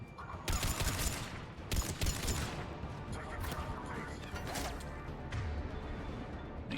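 Video game gunfire from Mass Effect 3 in a combat scene: dense rattling volleys of shots and crashing impacts, loud and close, with mechanical clanks between bursts.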